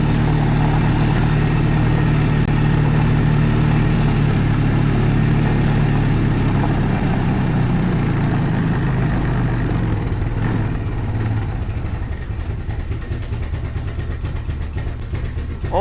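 A steady, rumbling refurbished ATV engine idle, smoking blue, runs throughout, loud and close, with a deep low throb that eases slightly toward the end.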